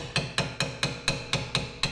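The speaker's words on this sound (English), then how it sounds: "try and get it manually moving uh, using a hammer and our flathead screwdriver" Hammer strikes on a flathead screwdriver against a stuck parking brake caliper on a Dodge Grand Caravan, eight sharp metallic taps in a steady, quick rhythm, close and clear with no talk.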